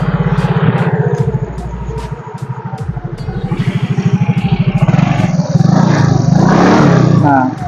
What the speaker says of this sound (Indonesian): Nah, suaranya tuh ngebas Yamaha 54T.